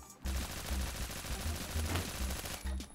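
Dense rapid gunfire from the Roblox game Phantom Forces rattles continuously for about three seconds, loud and close, with heavy low thumps under the burst.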